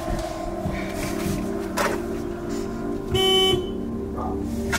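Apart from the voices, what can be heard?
car horn honking in video game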